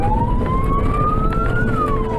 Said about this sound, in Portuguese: os motoristas ligam sirenes para alertar possíveis pedestres sobre a presença dos veículos.